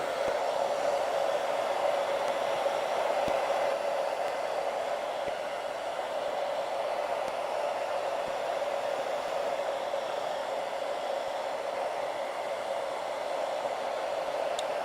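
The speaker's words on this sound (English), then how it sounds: "we're just gonna use the blow dryer and blow dry it until it turns clear" A blow dryer runs continuously on a wig during a custom hairline install, a steady, constant whooshing hum at close range with no talk.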